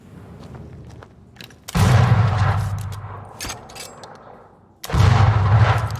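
Red's gun fires in the video game Banishers as two heavy booming shots a few seconds apart. Each blast is loud and close with a rumbling tail, and fainter thuds and ambient game sound fill the gaps, with no talking.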